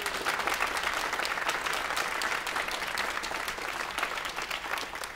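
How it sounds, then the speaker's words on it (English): A concert-hall audience at a live band performance breaks into full, sustained applause, dense and even throughout with no voices over it. "So let's give them a round of applause, everybody."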